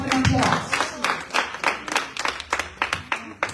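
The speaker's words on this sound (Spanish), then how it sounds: "give yourself an applause" An audience in a church-style gathering claps together in a burst of applause, dense at first and then thinning into scattered, irregular claps toward the end.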